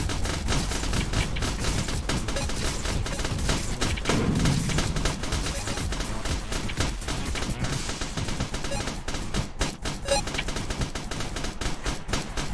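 Gunfire from an indie video game, with shots tearing through buildings: a dense, continuous rattle of rapid automatic fire and loud bursts that barely pauses.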